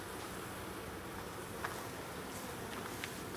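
Honeybees swarm in an opened backyard hive during an inspection, giving a dense, continuous buzzing drone that fills the space evenly, close and steady with no talking.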